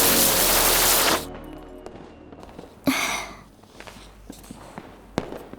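Diwali firecrackers and fireworks: a dense, loud crackling burst dies away abruptly, followed by a second sharp bang with a short crackling tail and a few fainter scattered pops.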